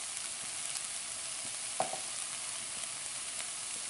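Cauliflower and green peas sabji with spices sizzles steadily in a pan, a constant soft frying hiss with a few faint clicks, no voices.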